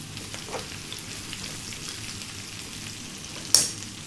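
Sliced onion and celery stir-fry over high heat for Chinese pork, a constant close sizzle with light stirring scrapes and one sharp utensil clack toward the end.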